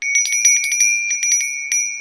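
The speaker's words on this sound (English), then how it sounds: "I've got a cute little bell here that I was given" A small hand bell is rung in a quick, steady series of bright metallic strikes with long ringing tones that carry between strikes. It is used to clear energy between tarot sessions. No voices are heard.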